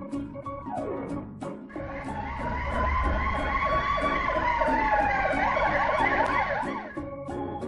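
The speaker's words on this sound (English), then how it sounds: "Fire truck." A fire truck siren rises and falls over a heavy rumbling engine, joined by rapid warbling tones and sharp horn-like blasts near the start and end.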